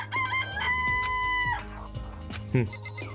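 Danganronpa video game chickens in a coop: an opening rising crow stretches for about a second, then choppy clucks and a sharp squawk follow, loud and close with no talk.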